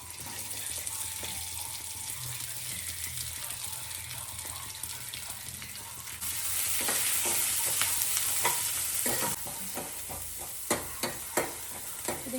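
Curry leaves and onions fry in oil for egg noodles, a steady close sizzle with a louder burst midway as they hit the pan, then spatula scrapes and clacks as they are stirred.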